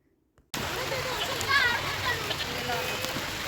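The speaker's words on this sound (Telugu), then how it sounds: "వర్షం అయితే స్టార్ట్ అయింది చూస్తున్నారు కదా చినుకులు అయితే స్టార్ట్ అయ్యాయి" Rain begins in a village during a goddess festival at a grandmother's home: a sudden, steady wash of patter and splashing drops that starts abruptly after a near-silent moment and holds evenly, with faint voices in the background.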